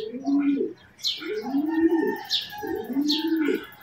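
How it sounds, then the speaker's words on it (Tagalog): Pigeons coo close by in a repeated rolling rhythm of soft throaty calls, with some chirps mixed in. "marami na rin dumaan mga ibon repa."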